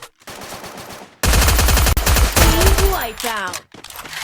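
Rapid automatic gunfire in the battle-royale game Free Fire, loud close bursts of shots crackling in quick succession after a brief quieter opening, with a sliding whistle-like effect near the end.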